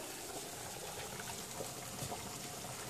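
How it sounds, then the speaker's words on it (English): Water at a rolling boil in a pot for pasta gives a faint, continuous bubbling and hiss, with small irregular pops spread evenly across the whole stretch. "I got the water's a boil."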